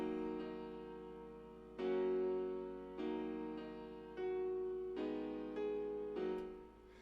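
An FL Keys piano plays a soft repeating chord pattern with heavy reverb, each chord struck then swelling and decaying into the next in a slow, even rhythm, heard alone and fairly quiet.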